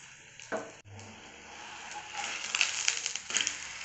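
Batter poured into hot white oil sizzles and crackles as it fries for a breakfast dish, the hiss building and growing busier toward the end, with no talking.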